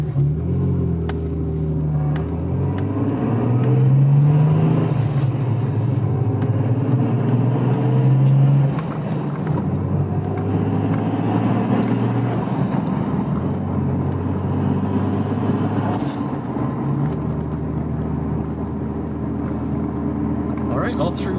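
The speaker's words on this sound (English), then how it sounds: "we're going to do a transmission check. Go through all the gears, just make sure no problems with the clutch" Engine of a 460-horsepower Nissan Skyline GT-R R33 pulling up through the gears, a steady loud rumble with rising and falling revs at each shift, heard from inside the car.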